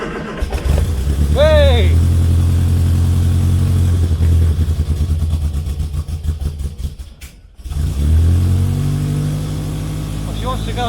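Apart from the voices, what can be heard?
Morris Minor engine starting and running on stale petrol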